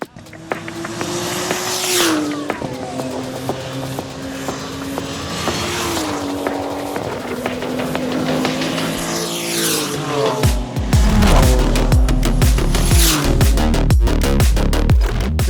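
BMW race cars lapping a circuit in a Turbo Cup qualifying session, engines droning and shifting pitch as cars pass continuously, with a louder, rougher close pass near the end.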